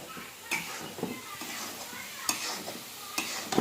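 Food is stirred in a pot on the stove, like sheera being stirred, the spoon scraping and tapping against the pot in irregular strokes over a soft sizzle, fairly faint, with quiet voices around.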